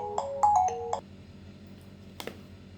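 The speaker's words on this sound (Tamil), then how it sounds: "ஃபோன் வந்து டிஸ்டர்ப் பண்ணிடுச்சு." A phone ringtone plays a short electronic melody of several quick tones, then stops; a brief click or knock follows in a quiet room.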